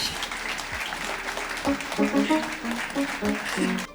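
Audience at an Asian heritage month talk show claps to welcome a guest, moderate applause mixed with voices talking over it, swelling slightly toward the end.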